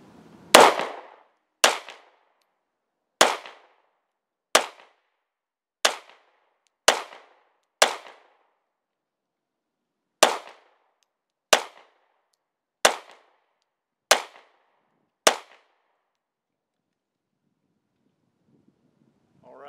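A Sig P226R pistol fired down range at a target about 18.5 yards away: twelve sharp, loud shots, evenly spaced, with a short pause after the first seven, then quiet at the end.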